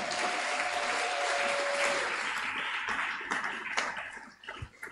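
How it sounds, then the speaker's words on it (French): A church congregation applauds to acclaim the Lord, a sustained burst of clapping from many hands that gradually thins and fades toward the end. "Est-ce qu'on peut acclamer le Seigneur?"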